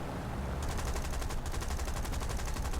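Rapid aircraft machine-gun fire in a Lancaster bomber combat game, a steady rattling burst starting after a brief pause and running continuously under engine drone.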